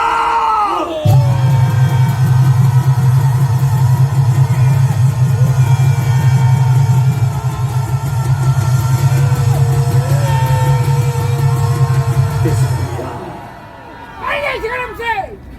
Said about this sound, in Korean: 함성 10초!